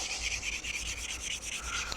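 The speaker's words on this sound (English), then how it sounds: "What I'm doing is I'm sanding off the minimal saw marks that are left behind" Steady wet sanding of an acrylic edge with 400 grit sandpaper, a continuous rhythmic rubbing scrape close up with quick back-and-forth strokes.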